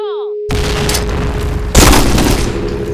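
A loud grenade blast in Counter-Strike, a sharp heavy boom bursting in mid-clip over continuous gunfire and game noise, following a brief tonal sound at the start.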